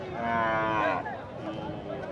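Cattle at a crowded open-air livestock market, with a calf or cow giving a loud, drawn-out moo of about a second that bends downward in pitch, followed by lower background bustle.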